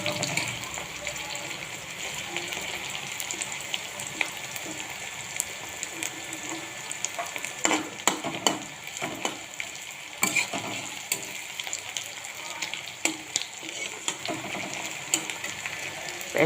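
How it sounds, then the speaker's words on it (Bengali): Onions fry in hot oil with a steady, close sizzle, while frequent scraping and clicking stirring strokes cut through the hiss throughout. "পেঁয়াজটাকে আগে ভেজে নিন"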